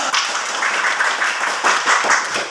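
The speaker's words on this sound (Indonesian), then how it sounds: "Wah, tepuk tangan dulu" A small group, likely schoolchildren in a classroom, claps hands together in a brief burst of moderately loud, slightly uneven clapping.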